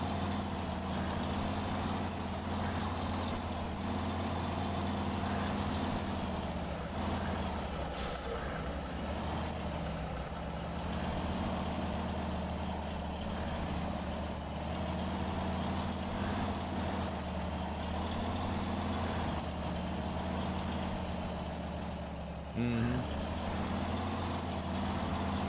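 Heavy truck engine in the Snowrunner game drones steadily and loudly throughout, a continuous low rumble with layered tonal hum and a brief air-brake-like hiss partway through; no talking over it.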